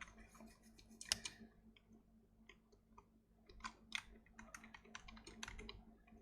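Keys clatter on a computer keyboard as code is typed in irregular bursts of quiet clicks, with brief pauses between runs of keystrokes in an otherwise quiet room.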